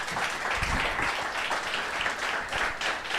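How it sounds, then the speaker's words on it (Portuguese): A church congregation breaks into steady, dense applause during a sermon, a continuous wash of many hands clapping at once with no speech over it. "Dê um aplauso a Jesus."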